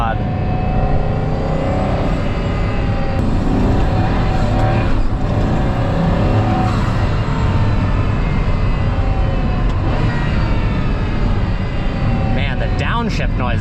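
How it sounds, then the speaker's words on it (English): A Pagani Huayra Roadster engine roars loudly and steadily from inside the car, with rising and falling revs through downshifts under heavy braking and a dense, continuous mechanical drone throughout. "Downshift noises are pretty crazy."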